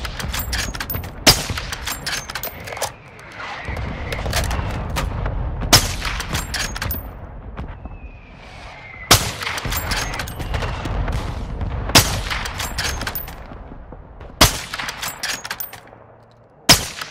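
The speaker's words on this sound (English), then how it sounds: "Friendly mortar strike on the way." A friendly mortar strike in the Call of Duty Warzone DMZ game lands as a string of sharp, loud blasts at irregular intervals, mixed with gunfire crackle and rumbling between impacts.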